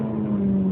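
Ferrari 430 engine holds around 4,000 rpm, a loud steady mid-pitched hum with a strong tonal drone throughout the short burst, no talking.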